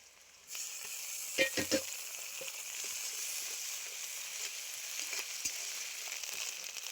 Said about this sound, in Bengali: এবার আমি দিয়ে দিচ্ছি আদা রসুন বাটা পরিমাণ মতো